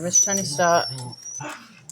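Excited dogs whimper with a thin, sustained high whine running beneath a person talking up close.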